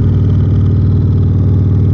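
A motorcycle engine runs hard during a pull on a Dynojet dyno, a loud, close, continuous low throbbing drone with a steady pulsing rhythm, with no one talking.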